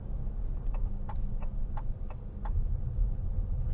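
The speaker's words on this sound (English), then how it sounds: "I like that blinker sound too" Turn signal blinker of a 2022 Dodge Challenger GT Blacktop ticking in a steady rhythm, six evenly spaced clicks over a constant low engine and road drone inside the cabin.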